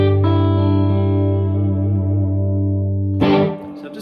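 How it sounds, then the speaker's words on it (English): A sustained electric guitar chord rings out with lush reverb from a Fender Deluxe amp, then a fresh strum cuts in and quickly decays into the room. "Got some reverb coming from the Fender Deluxe there"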